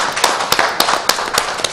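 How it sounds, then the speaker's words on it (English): Scattered clapping from a small audience at a press conference held by former lawmakers, a handful of sharp, uneven claps at close range, with no talking. "I think we need to give a clap."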